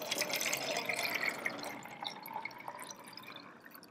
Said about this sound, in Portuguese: Agora eu vou transferir essa água para cá,